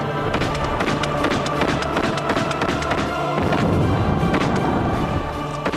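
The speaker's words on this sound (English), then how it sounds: "4 soldiers sprayed the stand with gunfire." Gunfire as soldiers spray a saluting stand from an army truck during the assassination of Sadat at a military parade; a dense, continuous barrage of shots and thuds with crowd-like noise, loud throughout.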